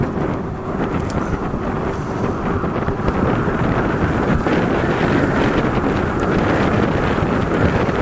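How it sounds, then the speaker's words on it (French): Strong wind buffets the microphone in loud, rumbling gusts while riding a Bezior S1 scooter at full throttle, a constant roaring blast that drowns out everything else for the whole stretch. "Par contre, il y a du vent, c'est un vent de fou."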